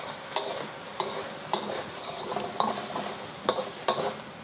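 Garlic, ginger and chili flakes sizzle with onions in a pan, pushed around by a utensil that clacks and scrapes against the metal in uneven strokes over a steady frying hiss, close by with no talking.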